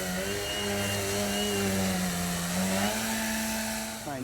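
An electric RC aerobatic plane, the Addiction X, flies overhead with a steady, buzzing whine from its motor and propeller that shifts in pitch as it passes, loud and continuous.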